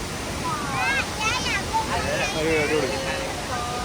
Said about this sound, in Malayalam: ഒരു രക്ഷയില്ലാത്ത വാട്ടർഫോളാണ്.